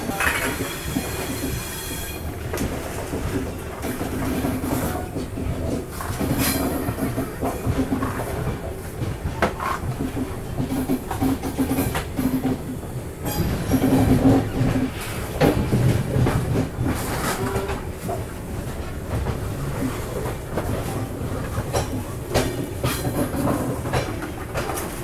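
Steady, loud rumble of the Himsagar Express rolling on rails, with rhythmic clatter, metallic wheel squeal and hiss from inside the moving carriage, continuing unbroken throughout.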